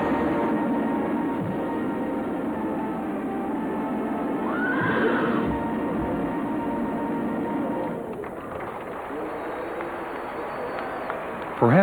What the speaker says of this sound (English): today's Irish are united by the sound of a horse's hooves striking lightning from the earth